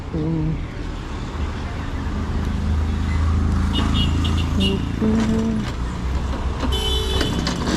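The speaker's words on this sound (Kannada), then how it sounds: "ಬಸ್ ಬಂತು" A bus rumbles close by as it arrives, with a deep engine drone, squealing brakes and hissing air, amid road noise and people talking nearby.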